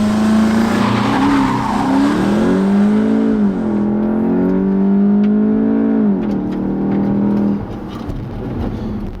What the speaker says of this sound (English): DSG box, launch mode activated.